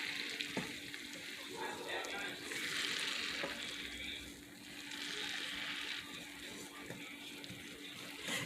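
Frying shrimp sauce sizzles in a pan as hot chili peppers and their juice go in, a steady close hiss that swells and eases with stirring, with a voice speaking faintly.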